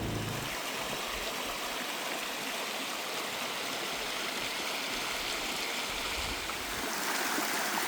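Creek water runs steadily through a hurricane-ravaged debris field, a constant broadband rush with no breaks and no voices.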